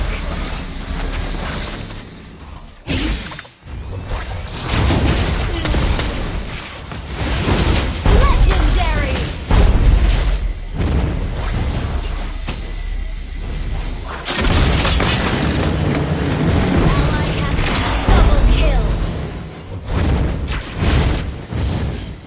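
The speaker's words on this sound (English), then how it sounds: "Your team destroyed a turret." Explosions and blasts sound as a turret is destroyed in a MOBA-style video game, with repeated loud booms, bursts and crashes over dense game music and effects, plus game announcer voices.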